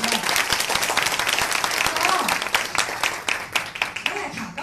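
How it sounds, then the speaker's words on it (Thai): Audience applause at a leadership talk event in Thailand, a burst of many hands clapping that is loud at first, then thins and tapers into scattered claps toward the end. "ขอเสียงปรบมือกันนะให้อัพไลน์ด้วย"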